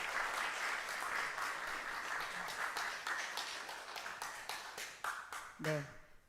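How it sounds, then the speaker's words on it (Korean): Audience applause in a church hall at a revival meeting, a faint sustained patter of many hands clapping at a distance that tapers off toward the end, with a voice speaking briefly near the close. "뜨거운 박수로 우리 환영하시겠습니다"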